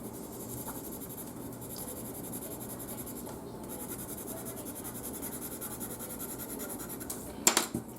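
Coloring flip-flops on a beach card with pencils makes a faint, steady scratchy scribble up close, ending in a few sharper clicks and taps.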